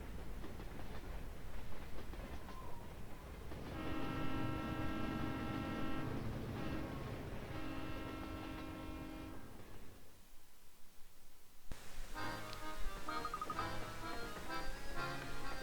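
Train rattling along inside the Professor Layton and the Diabolical Box game, a steady clickety-clack rumble under sustained tonal music and chimes, continuous and moderately loud throughout, briefly dipping before the music changes.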